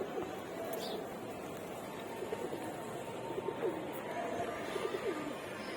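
Pigeons in a sky pigeon loft coo softly and repeatedly while bathing, their low calls recurring over a constant wash of background noise.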